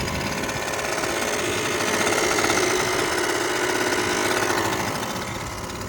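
A Bike Bug Deluxe engine on a Schwinn Meridian bicycle idles with its clutch disengaged, a steady, fast mechanical chatter that swells slightly in the middle and then eases back, heard alone and close.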